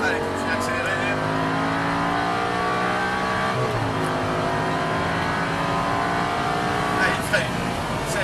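An Audi R8 V10 accelerating hard on a wet track, its engine note rising steadily and loud throughout with a brief shift dip midway, while someone speaks over the engine.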